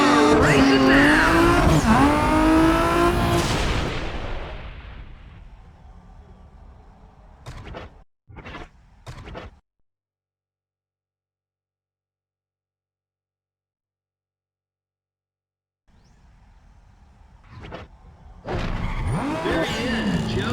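Engines roar and tires squeal as race cars launch in the Need for Speed ProStreet video game on PS2. Loud revving and skidding at the start fade to near silence, with a few sharp bursts before the roar returns.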